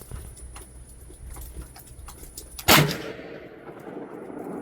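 A single sharp, loud crack of a hunting rifle fired outdoors while it is being sighted in, followed by a short fading echo against quiet surroundings.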